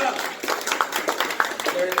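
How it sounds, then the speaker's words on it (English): A small crowd at an anniversary event in an art gallery claps briefly, the scattered hand claps mixed under a voice speaking over them. "Clap it up."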